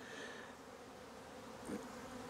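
Honeybees buzz steadily at a bee yard, a low, continuous hum of many insects with a slightly louder pass near the end and no voices.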